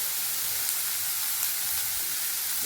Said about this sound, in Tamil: அது வெங்காயம் பாட்டுக்கு வதங்கட்டும்